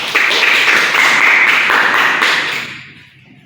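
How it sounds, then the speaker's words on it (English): Students in a classroom applauding classmates, a loud burst of close clapping from a small group that holds for about two and a half seconds and then fades away. "Give some applause for Atta and Farhan."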